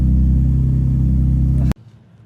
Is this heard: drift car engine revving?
yes